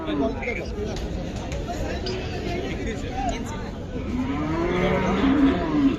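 Cattle moo in long, low calls amid a busy crowd of people chattering nearby at a cattle market, the lowing rising above the babble.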